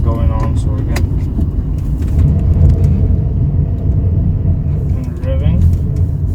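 An old car, driven for the first time after sitting for five years, revs in neutral. A loud, steady, low engine rumble fills the scene, with someone talking over it.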